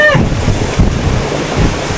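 Strong wind buffets the microphone in a continuous low roar, gusting in surges, with a brief faint voice at the start.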